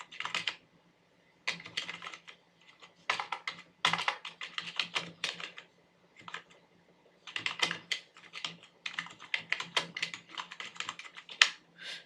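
Bursts of keystrokes on a computer keyboard while an address is typed into an online university registration form, clicking in quick uneven runs separated by short pauses, close and fairly quiet, with no talking.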